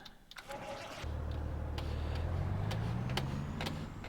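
A truck engine from Farming Simulator 19 turns over and settles into a steady, close mechanical drone, with faint clicks and background noise over several seconds.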